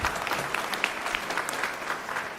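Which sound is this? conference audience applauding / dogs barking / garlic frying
conference audience applauding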